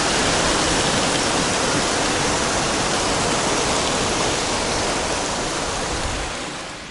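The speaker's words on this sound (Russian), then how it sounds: "Начался град!" Hail pelts down during a storm in Alanya, Turkey, a dense, loud, unbroken roar of impacts that holds steady for several seconds before easing slightly at the end, with no voices.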